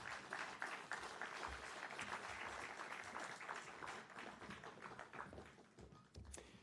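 Audience applause welcoming the panelists at a livestreamed panel discussion on truth and reconciliation in sport, a steady patter of clapping that holds for several seconds at moderate level before thinning near the end.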